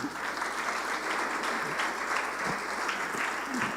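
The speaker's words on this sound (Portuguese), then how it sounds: "Aplauda o Senhor por isso." A church congregation clapping steadily during a sermon, dense continuous applause throughout the short stretch.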